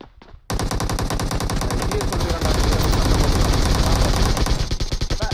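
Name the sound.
gunfire in a shooting video game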